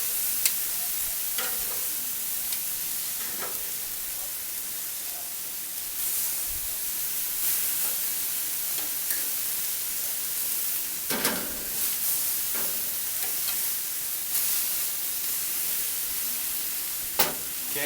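A steak sears on a hot BBQ grill, giving a continuous loud sizzle and hiss broken by scattered sharp crackles and pops.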